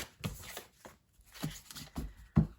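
Tarot cards being shuffled by hand in several short, soft bursts of riffling and sliding, close and fairly quiet, with brief pauses between them.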